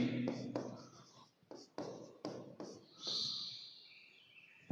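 Pen or marker strokes scratch across a board or paper as team names are written down a column, in several short bursts separated by brief pauses, close and quiet.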